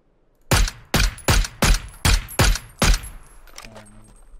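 Seven rapid, evenly spaced gunshots ring out in a video game firefight, loud and close, each one sharp with a short tail. A faint low hum and scattered game noises follow.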